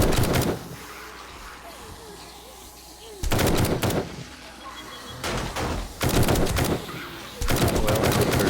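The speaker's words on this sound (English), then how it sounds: "Well, I just heard one of the turrets." Automated defense turrets fire in 7 Days to Die, with loud bursts of rapid gunfire in several separate volleys over a quieter game background.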